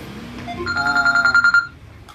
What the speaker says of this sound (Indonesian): orang ada aja yang lagi telepon ini